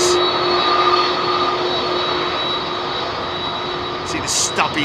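Pratt & Whitney jet engines on an airliner taking off at London Heathrow roar steadily with a sustained whine, loud and continuous, a brief higher burst near the end.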